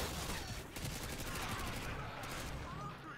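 Sustained gunfire from Call of Duty Modern Warfare 2, with dense rapid bursts of automatic shots forming a continuous loud barrage that runs steadily through the whole stretch.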